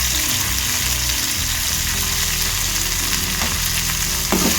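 Tomato chutney ingredients with a pinch of asafoetida sautéing in hot oil, a loud, steady close sizzle with stirring scrapes and a sharp clink near the end.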